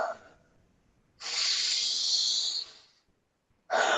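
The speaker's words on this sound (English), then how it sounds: "It's just deep breathing," A person demonstrates deep breathing: a long, forceful hissing breath lasting over a second, a pause of near silence, then the start of another strong breath, heard close and alone.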